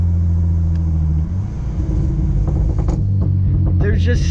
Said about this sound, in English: I know I've talked about the downpipes rattling for quite a while now.